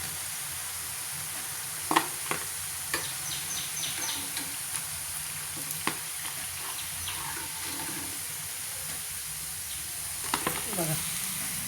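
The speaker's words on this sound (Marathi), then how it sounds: "चला आता ह्या सर्व वड्या तळून घेते." Aloo vadi pieces fry in hot oil with a steady, bright sizzle, with occasional clinks and utensil taps at close range and no talking.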